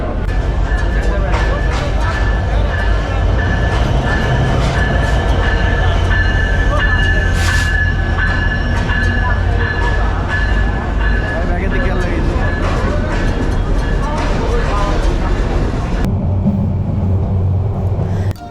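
The Parjatak Express passenger train runs out of Dhaka Airport railway station with a loud, continuous rumble and clatter of carriages, heard from inside, with voices faintly beneath the steady noise.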